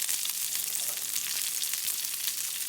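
Pancetta sizzles steadily in a pan, a close, even crackle of hot fat with no pauses and no voices.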